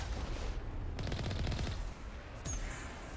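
Rapid automatic turret gunfire in the Mass Effect video game, a dense burst of repeated shots that pauses briefly and then resumes, loud and close with no talking.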